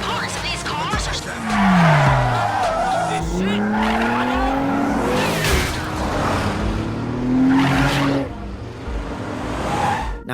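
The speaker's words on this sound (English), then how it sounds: "Your best bet is to grab a car and ram them off the track with it." Cars in a video game engine bounty hunt rev, skid and ram one another off a race track, with loud squealing tires and engine roars throughout and a voice speaking over the action.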